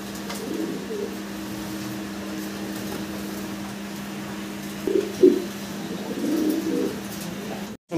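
A pair of Lahori fancy pigeons, male and female, give a few short, low coos near the end, over a steady hum that runs through most of the clip.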